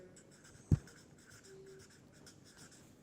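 Pen or chalk strokes scratch across a writing surface during a statistics lesson, soft intermittent scraping with one sharp knock near the start and no talking.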